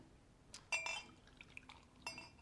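A fizzy drink fizzes and bubbles in a glass. Brief liquid splashes and light glassy clinks come in short bursts near the mic, with no talk.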